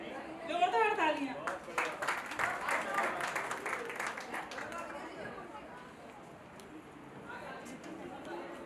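Applause at a 25th wedding anniversary celebration, a room of guests clapping loudly in a dense burst that fades out over several seconds. Voices and a brief vocal line sit at the start, with chatter carrying on underneath.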